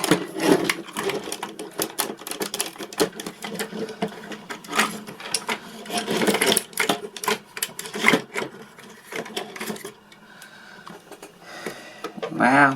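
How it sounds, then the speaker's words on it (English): A small electric motor drives a refurbished Sharper Image battle robot toy, whirring and clattering in rapid stop-start bursts close by, with a quieter stretch before a final buzz. "Wow, much bigger motor on this one."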